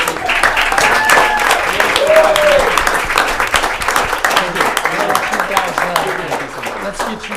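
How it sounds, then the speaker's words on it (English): Applause from attendees at a Hamilton city council meeting honoring graduates, a steady dense patter of clapping throughout with voices talking over it. "A round of applause for all of these people."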